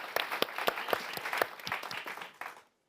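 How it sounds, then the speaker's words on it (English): A small audience at a young Londoners' summit claps, with distinct hand claps ringing out in an uneven patter for a couple of seconds before stopping abruptly. "So I'd like to give you a round of applause for that"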